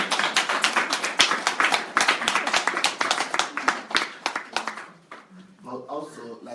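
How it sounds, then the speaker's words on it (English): Audience clapping at a talk on discovering latent wealth, sharp close claps in a steady rapid patter for about five seconds, then fading out as a voice begins speaking. "You want to clap?"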